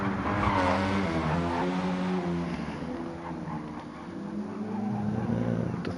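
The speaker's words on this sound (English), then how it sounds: "Swerving all over the place as he tries to get the car stopped." A GT1 race car skids and swerves on the Nurburgring Nordschleife in a racing game, its engine note rising and falling with tire squeal as it struggles to stop, loud and continuous.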